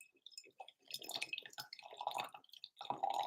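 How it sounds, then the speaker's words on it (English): Water dripping indoors, a series of small close drips and splashes in an otherwise quiet room, alone with no talk. "Do you hear that? Little drip."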